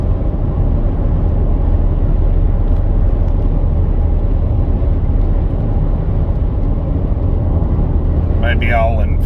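Tire and road noise from a 2017 Nissan Rogue SV on the interstate makes a dense, constant low roar from inside the cabin, unbroken for the whole stretch, with a brief higher-pitched sound near the end.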